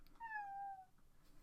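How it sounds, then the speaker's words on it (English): Pet cat giving a single clear, drawn-out meow close by, falling in pitch, in an otherwise quiet room. "That's my cat."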